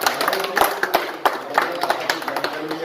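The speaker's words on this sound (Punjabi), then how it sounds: "ਇੱਕ ਵਾਰੀ ਤਾੜੀਆਂ ਦੇ ਨਾਲ ਮੁਬਾਰਕਬਾਦ" A gathered group claps briefly to congratulate Subedar Sukhdev Singh at a small ceremony, a short burst of scattered, uneven handclaps heard close and fairly loud for under three seconds.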